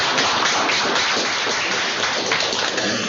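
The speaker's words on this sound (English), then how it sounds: "Let's give Michael applause." Dense, steady applause from an audience at a Nevada Legislature public session fills the whole stretch without pause, loud and close, with no voices standing out.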